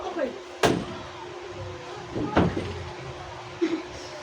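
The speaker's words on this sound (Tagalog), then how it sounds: "Sara mo yung pinto." Two sharp thuds of a door being shut sound over an indoor room, spaced a couple of seconds apart, while people talk nearby.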